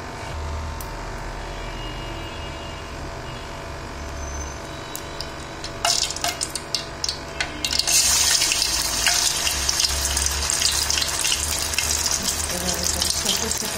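Rice flour pakora batter dropped into hot oil, a soft steady background that suddenly opens into loud, bright, close sizzling frying that keeps going once the batter goes in, with no talking.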